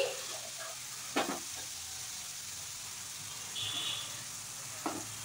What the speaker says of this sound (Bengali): ভালো করে কষিয়ে নেব যতক্ষণ না মশলা থেকে কাঁচা গন্ধ চলে যাচ্ছে।